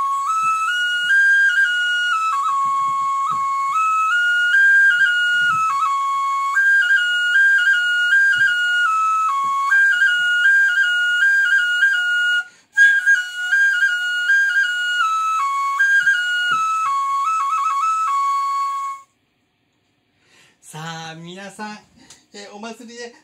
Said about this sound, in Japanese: お祭りの曲が聞こえてきました